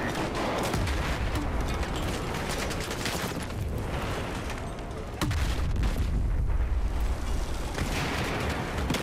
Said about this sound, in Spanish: Muchas explosiones.